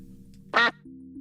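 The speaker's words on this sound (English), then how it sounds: "decoy duck is here tonight. He wants to say hi" A decoy duck gives a single loud, short quack against a steady low background hum.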